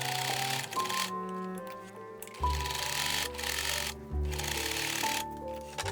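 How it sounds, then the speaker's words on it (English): A sewing machine runs a zigzag stitch along the side seams of a top, a close, continuous mechanical whir with rapid ticking that briefly changes pitch and pace, with no talking. "you sew the sides using a zigzag stitch"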